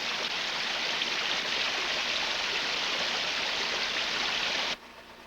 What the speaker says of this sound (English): the piping must be cleaned with large amounts of hot water